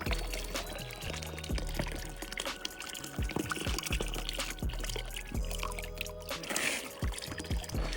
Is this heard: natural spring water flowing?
yes